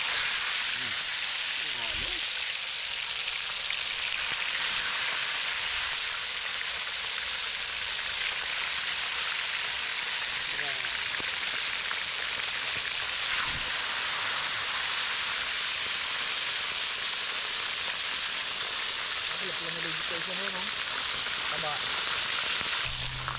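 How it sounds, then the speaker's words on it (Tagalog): Freshly caught tilapia fries in oil with a loud, continuous crackling hiss close by, and voices and small movements break in now and then underneath. "prito na natin tong ating mga nahuling plapla"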